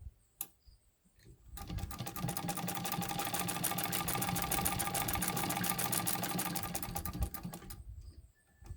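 A hand-cranked Singer 66 Red Eye sewing machine stitches thick, heavy fabric, a close steady mechanical whirring clatter of about seven seconds framed by quiet moments and a click at the start.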